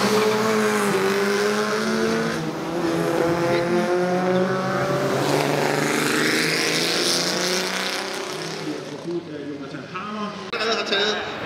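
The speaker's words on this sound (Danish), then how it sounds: "Jørgen Witting, der lå og kæmpede med Jørgen Hansson i Bugatti" Historic race cars, including an MG and a Bugatti, roar past continuously at the Copenhagen Historic Grand Prix, with loud engine drones rising and falling in pitch close by while a commentator talks over them.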